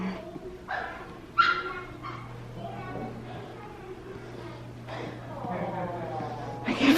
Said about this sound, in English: There's a dog down there.